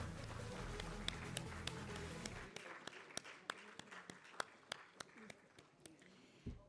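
Applause at an awards ceremony for women entrepreneurs, a dense crowd clapping at first that thins after a couple of seconds into scattered individual claps, with a low background rumble.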